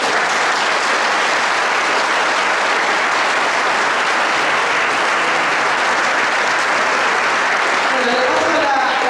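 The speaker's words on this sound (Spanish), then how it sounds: "Les pido un fuerte aplauso." Strong, sustained applause from a crowd at an economics and labour forum in Bernal, a loud, unbroken wash of clapping that holds at full strength throughout.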